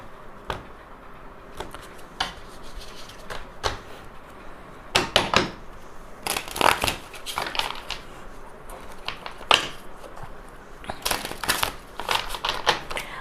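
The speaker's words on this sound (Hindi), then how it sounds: "Let's shuffle these cards." A deck of tarot cards being shuffled by hand, with irregular bursts of papery riffles and flicks, close up and fairly quiet, with no speech.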